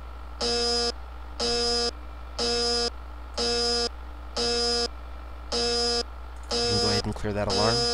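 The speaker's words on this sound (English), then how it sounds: "Clear that alarm." An alarm buzzer in a virtual ship engine room simulator sounds in regular repeating electronic beeps, about one per second, loud and steady over a low hum, with a voice starting up near the end.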